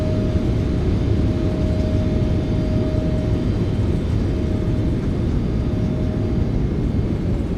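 Boeing 777F thrust reversers roar after landing in Microsoft Flight Simulator 2024. The dense, steady, loud jet rumble runs throughout, with a faint constant tone above it and no talking.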